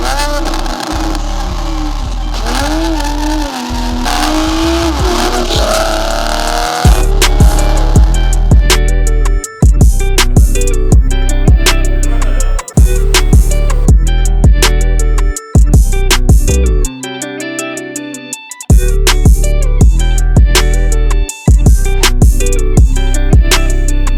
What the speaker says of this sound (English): It does sound like a Hoover, but it's because of the long-ass exhaust.